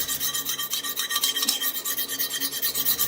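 A steel straight razor stroked square across a coarse DMT 8C diamond plate, giving a steady rhythm of close, gritty rasping strokes with no speech.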